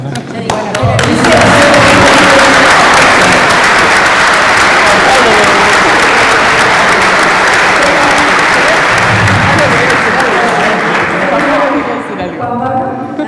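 Audience applause at the close of a forage improvement workshop, a loud, sustained burst of crowd clapping that swells quickly and carries on strongly for most of the stretch before easing, with voices murmuring underneath.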